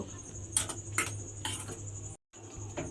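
Flour and powdered sugar for biscuits being mixed in a bowl: a spoon knocks and clinks against the bowl in a loose, repeated rhythm, with a brief break of silence near the end.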